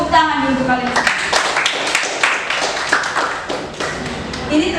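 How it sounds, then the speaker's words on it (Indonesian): Students in a classroom clap their hands together in a quick burst of uneven, fairly close claps, with voices mixed in underneath. "Tepuk tangan dulu kalian."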